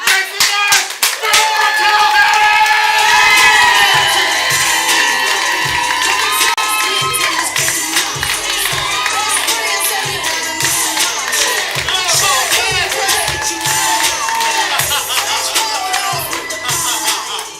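A comedy club improv audience roars with loud, sustained cheering, whooping and clapping, with many voices shouting together throughout.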